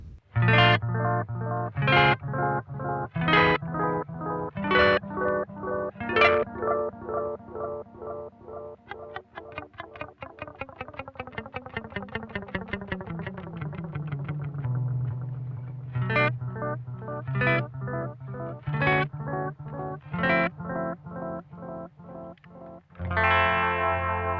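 Analog guitar delay pedal in long mode with a darker tone: a run of plucked guitar notes with echoing repeats smearing into a dense, warm wash, loud and up close with no talk.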